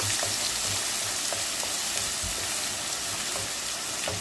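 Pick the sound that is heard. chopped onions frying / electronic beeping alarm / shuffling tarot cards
chopped onions frying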